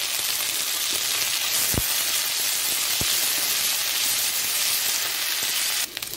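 Fish sizzling and frying steadily in a pan with ginger, garlic and chilli, a loud continuous hiss with a couple of brief stirring knocks, close by and with no talking.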